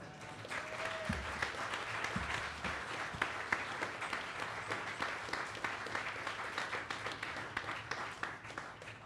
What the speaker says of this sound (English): I think we can applaud there, don't you?